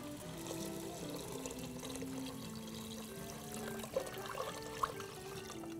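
Water poured from a jug in a home cooking setting, a steady low trickle running for several seconds with a few soft clinks near the end, no talking.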